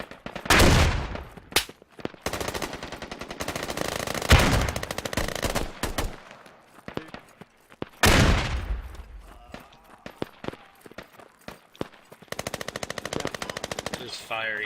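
Gunfire in the tactical shooter Squad: loud, sustained machine-gun bursts with sharp individual shots and short pauses between volleys, close and dominant throughout.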